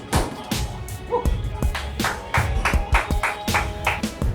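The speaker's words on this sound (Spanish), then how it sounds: "Hay aplausos y gritos, música insolente y mucha confianza." Applause and shouting in a boxing dressing room before a fight: irregular bursts of sharp claps, some close and loud, over a low thumping music bed, with no sustained talk.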